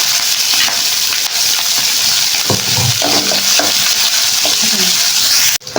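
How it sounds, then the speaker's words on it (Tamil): Onions sautéing and being stirred in a pan for home-style sambar, with curry leaves and green chillies, a steady loud sizzle broken by scraping stir strokes and clinks of a spoon against the pan. "வெங்காயம் நல்லா வதங்கிடுச்சு."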